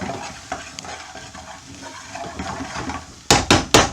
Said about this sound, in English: Make sure you keep them moving, but keep them nice and hot.